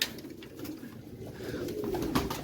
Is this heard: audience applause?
no